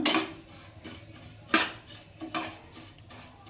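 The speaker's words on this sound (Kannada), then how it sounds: "ಈಗ ತುಪ್ಪ ಹಾಕಿಬಿಟ್ಟು ಶಾವಿಗೆನ ಹುರಿಬೇಕು ಸ್ವಲ್ಪ ಕೆಂಪಗಾಗಂಗೆ ಶಾವಿಗೆನ ಹುರಿಬೇಕು" Vermicelli roasting in ghee in a pan for coconut vermicelli kheer, with repeated metallic scrapes and clinks of a spoon stirring against the pan, spaced in uneven bursts, close and moderately loud, no talking.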